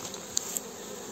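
Honeybees active around Mini Plus beehives in early spring: a soft continuous buzzing hum with a couple of brief louder passes of individual bees flying close by.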